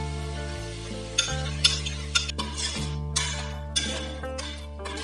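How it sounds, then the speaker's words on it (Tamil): A utensil mixes salt and masalas into vegetable biryani in a pot, making several close, sharp scrapes and clinks over a steady humming drone. "இத இந்த மாதிரி நல்லா மிக்ஸ் பண்ணிக்கிறேன்."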